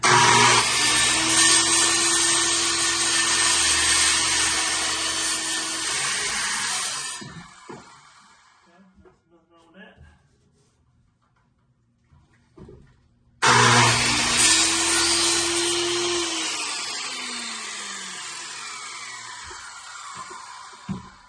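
During an interior rebuild, a power tool cuts along a marked line with a loud high whine for several seconds, pauses amid quieter handling noises, then screams again at full speed.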